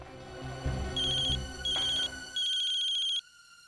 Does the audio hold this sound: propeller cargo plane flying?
no